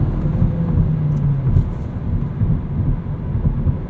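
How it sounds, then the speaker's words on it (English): A 2019 Hyundai Elantra GT N Line with a 6-speed manual launches with traction control off, a deep loud engine rumble with rising drone filling the cabin, heard from inside, continuous and without talk. "Let's do traction control off and a little launch."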